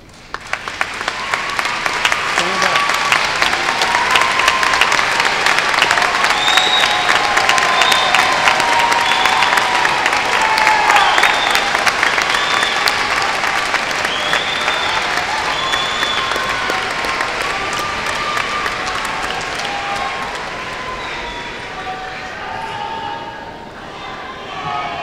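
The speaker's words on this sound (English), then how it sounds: "please stand so that our graduates may show their appreciation by a round of applause" A commencement ceremony audience claps in long, sustained applause that rises quickly and holds steady for over twenty seconds, with faint crowd murmurs and some cheering, before tapering off at the close.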